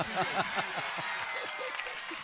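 An audience applauds at an Urdu poetry mushaira in Mangrulpir. The steady, moderate patter of clapping runs under spoken voices and appreciative calls from the crowd.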